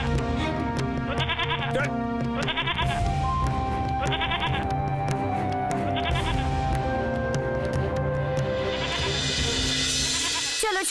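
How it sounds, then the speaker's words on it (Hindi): A frightened goat bleats repeatedly in distress, loud and close, amid a busy dramatic music score, with a brief voice heard over it. "वो बकरा कैसे चिल्ला रहा है ना? उसे बहुत तकलीफ हो रही है, बहुत डर लग रहा है उसे।"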